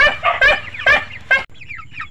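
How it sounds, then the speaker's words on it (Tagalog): Broiler chicks on a small farm, a run of loud, close clucks and chirps in quick bursts, then softer peeping cheeps trailing off, with no talk over them. "Yan yung mga sisiw na broiler."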